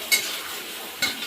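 Soybeans stirred and fried in a pan for a tomato chutney, giving a steady soft sizzle with two brief scraping stir strokes, near and alone.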